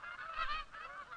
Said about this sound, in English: With winter closing in, the geese assemble from all directions.